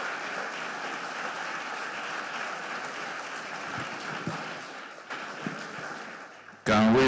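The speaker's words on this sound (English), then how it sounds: "Can we keep the applause going until she takes her seat?" Steady applause from an economic summit audience in Nigeria fills a large hall, even and sustained before tapering near the end, where a louder burst of clattering noise cuts in.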